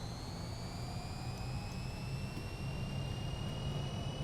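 Steady jet roar from the Fokker F28's engines on a takeoff roll in Microsoft Flight Simulator, a deep rumble under rising high whining tones that climb slowly in pitch, continuous and fairly quiet without speech.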